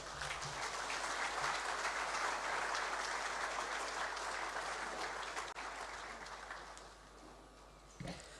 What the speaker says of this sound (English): I think we can do better with our round of applause once more